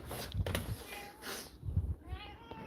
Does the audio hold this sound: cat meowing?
yes